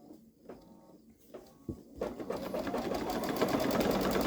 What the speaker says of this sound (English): Now I can stitch, and it matches it up.